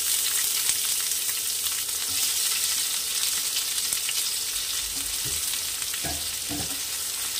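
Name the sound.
chopped onions frying in oil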